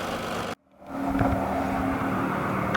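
A second-generation Chevy Astro van runs with its exhaust escaping through a muffler pocked with small holes, giving a loud, steady rumbling drone that cuts out briefly and then resumes at an even, sustained level.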